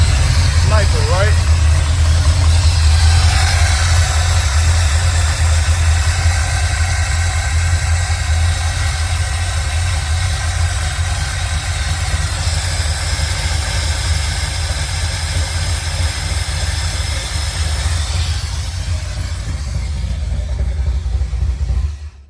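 A car engine idles roughly with only two of its fuel injectors working, a steady loud low rumble and vibration running throughout, with someone talking over it.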